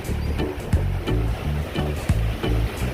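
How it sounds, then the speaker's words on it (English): Rough sea surf at Alligator Pond on the Jamaican coast, with waves breaking close by in a steady, churning rush. Regular thumping pulses about every half second sit over the continuous water noise. "look on the sea. The water rough right now."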